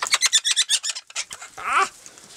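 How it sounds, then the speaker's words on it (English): Male and female king parrots call close by on a balcony, a fast run of sharp repeated notes followed by a harsher, rasping squawk. "Here's the one with The male and female king parrot."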